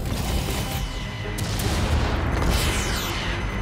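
Missiles fire in Watch Dogs Legion as a dense, continuous barrage of booming shots and rumble, loud and close, with no pauses.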